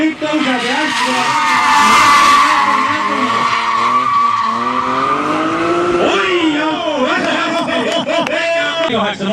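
A drift car skids and squeals its tyres through a corner at a drift competition, engine roaring loudly and continuously, with a commentator talking over it.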